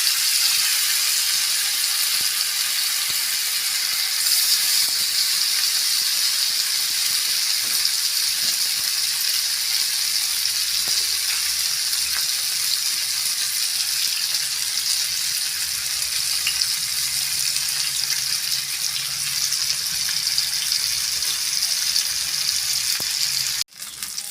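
Pieces of pomfret fish frying in hot oil, a loud, even, close sizzle with light crackles running unbroken for a long stretch before cutting off abruptly at the end.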